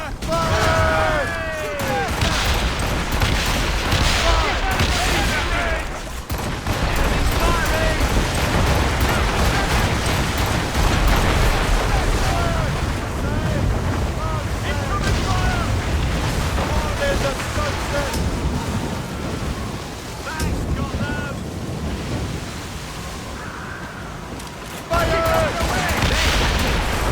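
Naval cannon fire booms repeatedly from warships on the open sea in Assassin's Creed Rogue, dense blasts rolling over waves and wind while crewmen shout through much of the battle.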